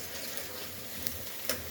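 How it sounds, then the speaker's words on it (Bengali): Whole cumin seeds sizzle in hot oil while tempering, a steady close hiss with a couple of brief crackling pops. "কাঁচা জিরে দিয়ে আমি সবসময় বাগার দিই"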